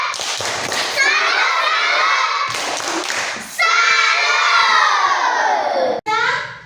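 Schoolchildren in an Indonesian classroom chant and shout together in a clapping cheer, loud and close, in two bursts separated by a brief pause, with scattered claps and thumps under the voices.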